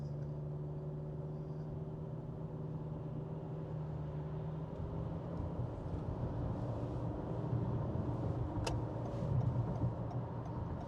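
A compact rental car cruises west along a Toronto highway, with a steady low engine and road rumble heard from inside the cabin and a slight rise in noise toward the end.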